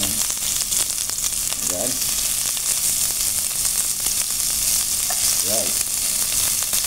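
Onions sizzling in a frying pan, a loud, continuous hiss close by with small crackles throughout, and brief spoken words twice over it.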